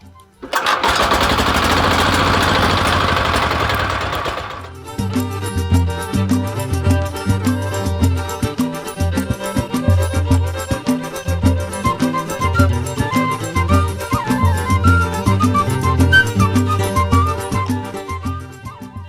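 A walking tractor's engine is cranked by hand and catches, giving a loud burst of starting roar, then settling into a steady, rhythmic chugging idle that runs close by to the end with no talk.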